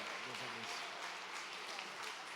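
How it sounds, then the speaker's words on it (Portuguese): Church congregation clapping for the Lord during a family worship service in Cubatão, Brazil: steady, dense applause throughout, fairly faint, with a brief low voice or tone early on. "Aplauda ao Senhor, igreja."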